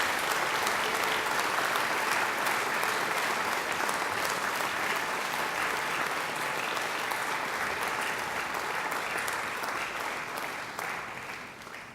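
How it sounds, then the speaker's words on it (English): A graduation ceremony audience gives a sustained round of applause, a dense, steady wash of many hands clapping in a large hall that holds evenly before tapering off at the end. "And now I invite you to give them a mighty round of applause."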